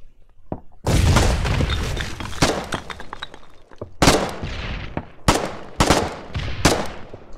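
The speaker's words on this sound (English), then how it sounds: "That's a grenade!" Combat in the war game Foxhole: a loud sustained burst of blasts and gunfire, followed by several sharp, separate explosive cracks and booms in quick succession, close and heavy.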